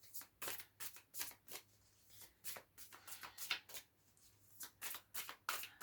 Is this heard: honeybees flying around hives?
no